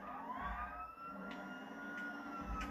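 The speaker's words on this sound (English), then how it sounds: "I know the sirens may drive people nuts" A video game police car siren wails, rising and holding steady over a low engine rumble, with a few faint clicks along the way.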